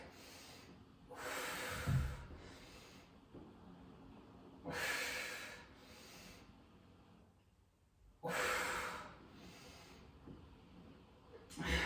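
Controlled breathing during a low-impact Pilates abs circuit, heard as three long, strong airy exhales or inhales spaced a few seconds apart, close and fairly quiet, with no talking over them.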